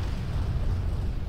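A lava eruption in the Far Cry video game gives a short, loud, low rumbling roar that stays steady and dense for about a second, with no voices over it.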